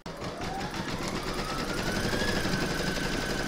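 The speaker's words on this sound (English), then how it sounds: "pop the hoop into your machine and stitch round number two." An embroidery machine runs steadily, stitching a placemat held in its hoop: a fast, even mechanical whir and rapid needle chatter, close and continuous, with no talking.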